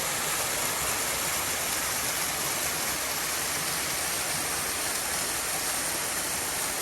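A waterfall on a Southern California hiking trail pours in a steady, loud, unbroken rush of falling water that fills the whole stretch without pause.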